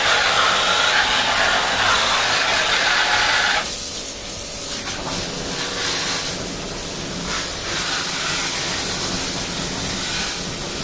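A 24V 180W electric pressure pump for car washing and spraying pesticide sprays water in a loud, continuous hiss that drops slightly in tone partway through, with no voices.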